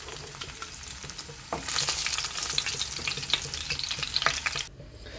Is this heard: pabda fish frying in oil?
yes